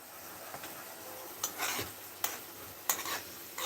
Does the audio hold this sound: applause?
no